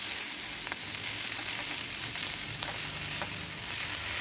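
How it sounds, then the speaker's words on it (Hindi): Fish pieces fry in a pan for fish curry, giving an even, continuous sizzle with faint crackles scattered through it, heard up close with no voices. "मछली फ्राई हो चुकी है"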